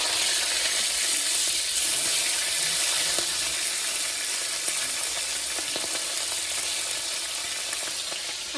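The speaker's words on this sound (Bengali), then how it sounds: "এই যে সিলভার কাপ মাছ ভাজা করে নিচ্ছি" Silver carp fries in a pan with a loud, dense, continuous sizzle and crackle that lasts throughout, heard up close with no voices.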